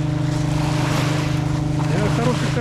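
Water surging and washing over an artificial embankment by a lighthouse in Vladivostok, a steady loud rush of surf under a low engine-like drone, with wind buffeting the microphone throughout.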